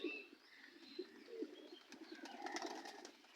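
Pigeons kept in a backyard coop beside native chickens give soft, repeated low coos, faint and fairly close, with a few light chirps mixed in and no talking.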